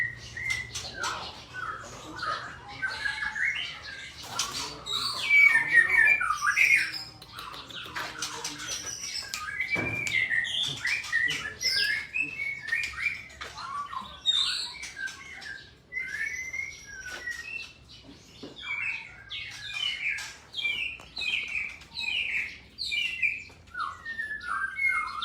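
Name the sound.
white-rumped shama (murai batu) singing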